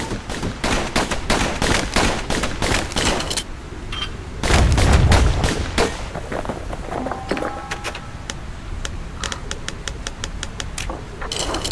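Dual slinger pistols firing fast in the Bastion video game, a brisk rattle of quick shots with a heavier thump midway, continuing under game sounds.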